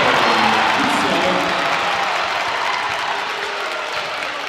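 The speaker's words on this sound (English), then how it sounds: "Crowd starting to get into it" Loud crowd applause and cheering fill a high school boys' basketball gym after a go-ahead score, a dense roar that slowly eases while a commentator talks over it.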